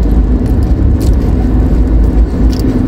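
A car drives along a road in southern Alberta, giving a loud, steady interior rumble and road noise with a few faint clicks, continuous and close, with no talk.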